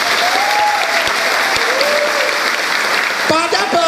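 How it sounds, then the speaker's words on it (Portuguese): Applause from a crowd at the inauguration of Reciclarte, a cultural venue in Araguaína, steady dense clapping filling the whole stretch with some voices and a whistle-like tone mixed in. "Aqui, pode aplaudir."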